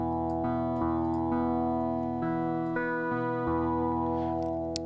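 A synthesizer tone with heavy filter resonance and an envelope plays a sequence of sustained, ringing notes that step between pitches, bright and buzzy, with no talking.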